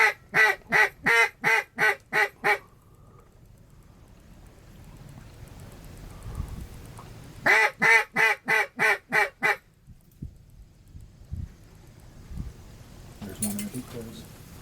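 Wild ducks quack in two loud, rapid bursts of about eight calls each on the Mississippi River during a morning hunt, with quiet wind and water noise between and a faint burst near the end.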